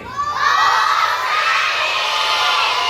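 At a summer camp in Atladara, Vadodara, many children yell Om Shanti in unison, a loud and steady chorus of voices that swells quickly and stays full to the end.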